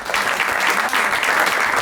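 Live podcast audience claps throughout, a dense and loud burst of applause from a crowd with no voices heard over it.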